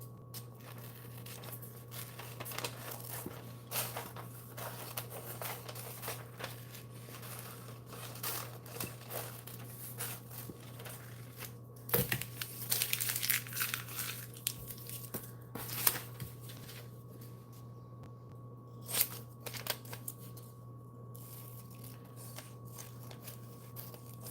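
Paper cut down with scissors for a glue-book collage: soft, intermittent snips and crinkling rustles, close and quiet over a constant background hum, with a few sharper handling bursts.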